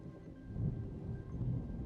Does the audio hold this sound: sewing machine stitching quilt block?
no